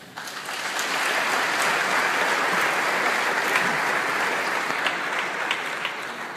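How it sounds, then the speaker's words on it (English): A convention audience gives a sustained round of applause, a dense, even wash of many hands clapping that swells in quickly and holds steady at a moderate distance for several seconds. "each and every one of you deserve a round of applause"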